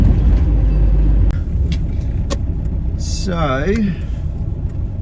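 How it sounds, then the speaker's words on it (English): Steady low rumble of a car interior while driving home at night, loud and continuous road and engine noise throughout, with a voice speaking briefly over it partway through. "just driving home from Goma Cinematheque"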